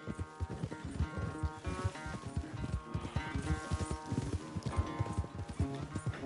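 Horse hooves gallop in Red Dead Redemption 2, a fast steady clip-clop of rapid hoofbeats close and continuous, with game music and ambience underneath.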